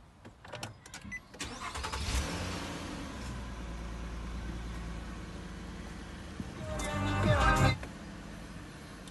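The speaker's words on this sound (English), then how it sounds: "let you guys hear any kind of change in the way the car starts" A car engine fitted with a gas booster cranks and catches after a couple of seconds, settles into a steady idle, then revs up briefly near the end before easing back, loud and close.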